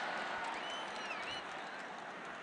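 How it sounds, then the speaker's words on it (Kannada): Crowd applause at a cricket league prize ceremony, a continuous even wash of many hands clapping at steady loudness, fairly close, with no other sounds standing out. "ಜೋರಾದ ಚಪ್ಪಾಳೆ ಫಾರ್ ನವೀನ್ ಕೃಷ್ಣ"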